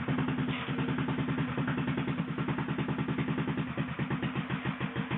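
Replica 1888 Benz Patent Motorwagen single-cylinder engine driving along in third gear, a steady loud chugging beat of rapid regular pulses with mechanical clatter throughout.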